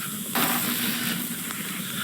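Steam hisses in the UAYEB: The Dry Land video game, a steady broadband rush that swells suddenly and holds, loud and close, with no voices.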